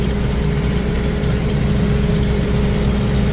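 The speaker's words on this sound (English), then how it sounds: "I'm in the tractor" A tractor engine idles close by, a steady low mechanical rumble with a constant drone and slight uneven throb, running alone without talk.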